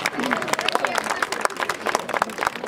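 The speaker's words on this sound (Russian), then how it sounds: "Наверное, хотели побольше аплодисментов сорвать." Audience applause for a Cossack folk song ensemble at a concert, a steady dense wash of clapping from a crowd throughout, fairly loud and close with no voices over it.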